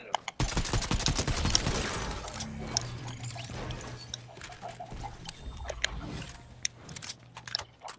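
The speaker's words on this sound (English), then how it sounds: "Yeah, I'm shooting at them." Rapid bursts of gunfire in a Fortnite match, dense overlapping shots fired close by over several seconds, with scattered impacts and brief voices among the shooting.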